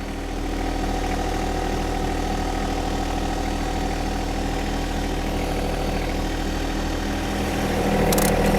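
A John Deere 1025R compact tractor fitted with a 260B backhoe hums steadily while reversing, its engine note close and constant with a low vibrating drone throughout, and a slight swell near the end.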